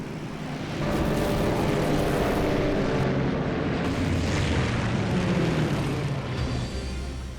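A propeller fighter plane flying, a loud sustained engine roar that swells and holds before easing off slightly, with no voices.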